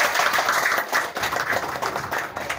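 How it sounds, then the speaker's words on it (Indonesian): A crowd claps in a steady, dense patter at a company inauguration ceremony, continuing evenly throughout, fairly close and moderately loud. "Tepuk tangan."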